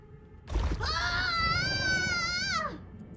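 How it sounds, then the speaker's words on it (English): A single long, high scream rings out in the video game Honkai Star Rail, opening with a sharp crash-like onset and holding a wavering, strained tone for about two seconds before trailing off, heard alone at close range. "What was that sound? Did someone scream?"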